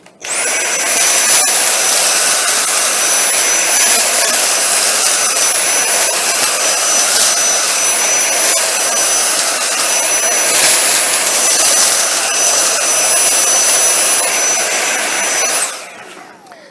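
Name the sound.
Dyson V7 Trigger cordless vacuum running in high power mode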